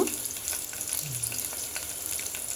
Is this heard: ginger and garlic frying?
yes